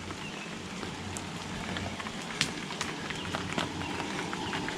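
Heavy rain pours steadily in a Washington State forest, a dense hiss with scattered sharper drips and taps hitting nearby surfaces at camp.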